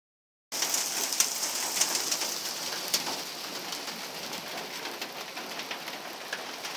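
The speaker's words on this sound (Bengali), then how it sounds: "তোমরা দেখতে পাচ্ছ বাইরের দিকেও কিন্তু প্রচণ্ড বৃষ্টি হচ্ছে।" Heavy rain begins abruptly and keeps pouring outdoors, a dense, steady patter on surfaces close by, with faint bird calls like cooing pigeons mixed into the downpour.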